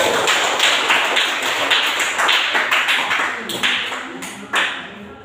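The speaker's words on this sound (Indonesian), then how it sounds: "tepuk tangan untuk semua" A class of students clapping together during a lesson, a dense run of many hand claps at close range, loud and continuous with no talking over it.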